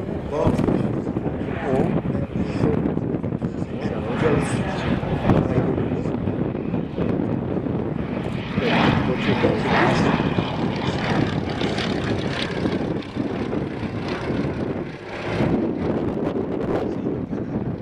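A propeller-driven torpedo bomber, carrying a big torpedo under its fuselage, flies high overhead at the Duxford Flying Legends air show, its engine drone steady under heavy wind buffeting and someone talking throughout.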